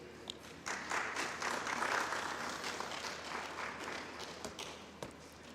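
An audience at a Caribbean tech forum during an ICT week event applauds, the clapping swelling after a brief pause and then holding steady before tapering slightly near the end.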